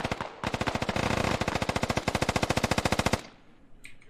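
Sustained automatic rifle fire in the tactical shooter Squad, a loud rapid burst of evenly spaced shots lasting about three seconds before cutting off into quieter background noise.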